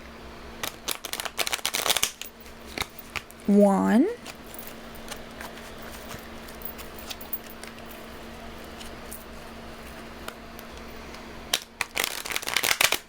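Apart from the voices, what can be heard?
shuffling a deck of tarot cards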